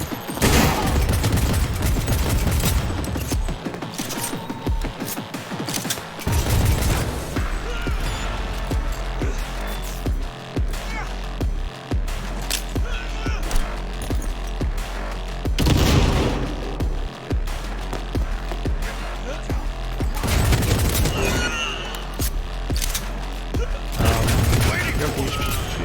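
Sustained heavy gunfire fills a firefight in the video game Cyberpunk, with dense overlapping shots and booms that stay loud and near throughout, briefly easing in short gaps before resuming.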